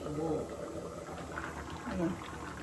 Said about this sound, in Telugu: ఇదిగోండి కూర ఉడికిపోతుంది